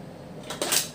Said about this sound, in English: Oops, scissors fell down into the cart.